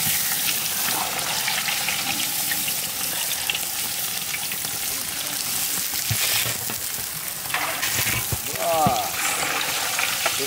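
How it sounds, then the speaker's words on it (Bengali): Hilsa fish frying in hot oil while a village meal is cooked, a steady, dense sizzle running throughout with occasional scraping stir clatter and brief watery bubbling near the end. "তেল একদম সুন্দর গরম হয়ে গেছে, দিয়ে দেবো ইলিশ মাছ। আমরা ইলিশ মাছটাকে এরকম হালকা করেই ভেজে নেব।"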